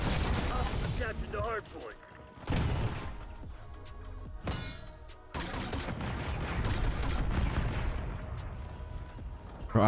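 Rapid War Machine launcher blasts and heavy gunfire from Black Ops 6 go off in dense, booming bursts, loud and near, with short lulls between volleys.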